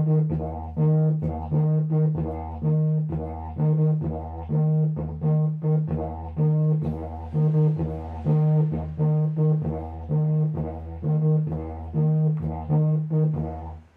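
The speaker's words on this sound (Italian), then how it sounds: "inizialmente suonerò tutto il ritmo sul tut, quindi sull'effetto tromba, e marcherò i bassi col suono" A didgeridoo plays a steady, bouncing rhythm of trumpet-like toots over a droning tone, with low bass accents marking the pulse, close and alone without speech.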